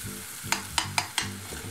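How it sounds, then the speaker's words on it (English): Tomatoes frying in a pan with a steady sizzle, punctuated by four sharp scraping knocks as they are stirred, close and clear with no talk. "We're really frying the tomatoes."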